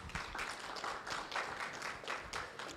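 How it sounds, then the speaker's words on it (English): Audience applause at an annual multistakeholders' conference, greeting someone speaker as she comes to the stage. Dense, steady clapping fills the room at moderate loudness, with no one speaking over it. "A round of applause as she comes"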